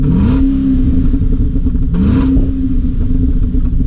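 A loud car engine with straight pipes revs twice in quick blips over a rough, rumbling idle, close and raw-sounding like an open exhaust.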